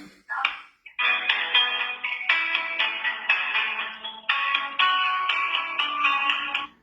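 A telephone ringback tone repeats steadily for several seconds during an unanswered call to a prosecutor's office, loud and close with no talk over it.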